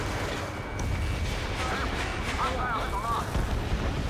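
Bombs exploding in the air-combat game Ace Combat 7: Skies Unknown: heavy continuous rumbling blasts under a dense roar of jet and battle noise, with faint cockpit voices and warning tones mixed in.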